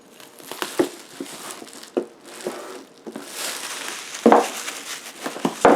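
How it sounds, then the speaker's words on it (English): Cellophane wrapping is peeled off a Legend of Zelda Monopoly Collector's Edition box in a series of sharp, close crinkles and crackles in irregular bursts, with no voices. "I'm going to take the cellophane off this."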